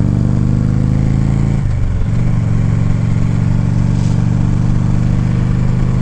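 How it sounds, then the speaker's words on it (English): Steady loud wind roar inside a motorcycle helmet with the visor lifted during a night ride, with a constant low engine drone beneath and a brief dip in tone partway through. "Let's see what the difference is with wind noise on this."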